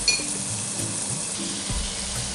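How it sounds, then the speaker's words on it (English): Meat for a lasagne being added bit by bit to a pan of frying carrot and parsley gives a steady, close sizzling hiss throughout, with faint low knocks and scraping of stirring underneath. "So now I'm going to be adding my meat bit by bit"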